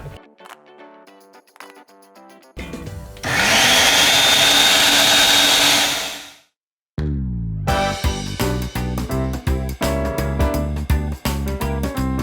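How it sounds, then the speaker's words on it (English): A kitchen blender whirs loudly for about three seconds as it purées cooked cauliflower, preceded and followed by brisk music, with a short silent gap after the motor cuts off. "We'll put it in the blender now."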